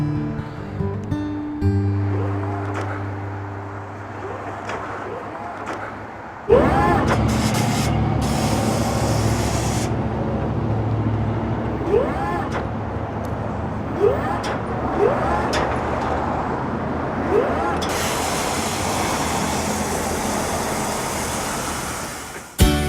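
A Škoda Kodiaq SUV passes with a broad engine and tyre wash, starting as a low hum, then becoming a louder driving roar with several swooping pass-by sweeps and rushing road noise, without voices.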